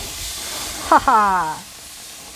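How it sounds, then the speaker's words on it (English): Steady, soft sizzling of chicken on a hot grill runs throughout, with a brief laugh over it. "love that sizzle"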